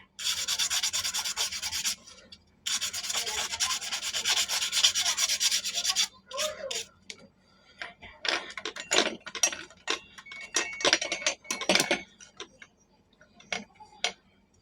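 Rubbing and scrubbing to clean a part of a 12-inch electric fan with metal blades, close-up scraping strokes in bursts with short pauses, then a series of lighter irregular taps and rubs.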